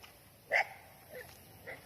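A dog in a deserted office gives one short, faint yip or whimper, followed by a couple of softer whines, heard at a distance in a quiet room.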